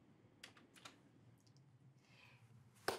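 Typing on a computer keyboard aboard a cruise ship, heard as faint, scattered key clicks in short bursts, with one sharper, louder tap near the end.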